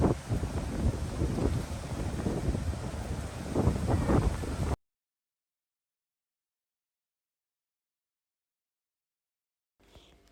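Strong outdoor wind buffets the microphone with a loud, rough rumble for about five seconds, then cuts to near silence, with only a faint trace returning at the very end.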